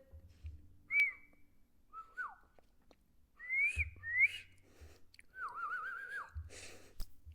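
A person whistles an imitation of a koel's call, a series of clear sliding whistles, some rising and some falling, followed by a longer wavering note, close and alone with soft breaths between.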